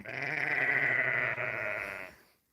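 Sheep bleating at a homestead in lambing season: one long, loud, nasal bleat held for about two seconds with a brief catch partway through, close by, with no talk over it.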